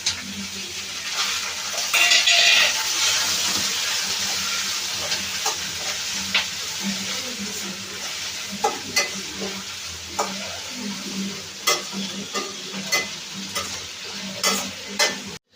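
Tomatoes fry in a pan with a steady hiss, and a utensil stirs them in repeated scraping strokes that grow more distinct toward the end, with no talking.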